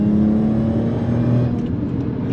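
A supercharged Audi S5 quattro producing about 420 hp accelerates hard, its engine giving a loud, sustained droning roar that stays steady and strong for the whole stretch, heard from inside the car.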